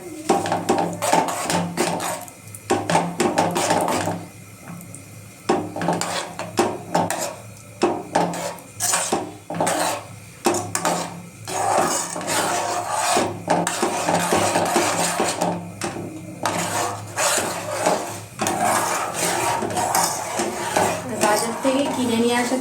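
A utensil scrapes and clatters against a pan again and again while milk cream is stirred down into homemade ghee, a busy, close and fairly loud rhythm of metal knocks with a constant low hum underneath.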